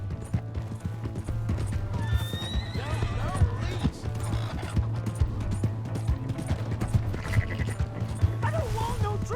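In the video game Red Dead Redemption II, hooves clip-clop at a steady pace while a horse whinnies, with excited shouting voices over the top and an underlying mechanical hum.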